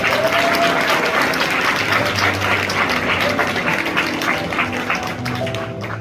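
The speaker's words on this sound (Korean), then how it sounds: "여러분 큰 박수 부탁드립니다" Audience at a graduation ceremony gives a loud, sustained round of applause lasting throughout, dense steady clapping from a large indoor crowd with no speech on top.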